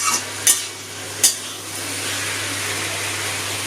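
Ground spices and spice paste being stir-fried with vegetables for a vegetable khichuri, giving a steady close sizzle with a couple of sharp spatula clinks against the pan early on.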